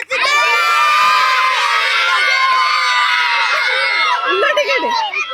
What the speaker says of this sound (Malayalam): അപ്പൊ ഗംഭീര കയ്യടി എല്ലാ ടീമിനും വേണ്ടിയിട്ട്